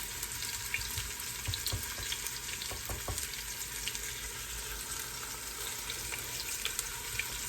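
Floured oxtails crackle and sizzle steadily in very hot grease, a dense continuous frying hiss close up with a few brief clicks of stirring.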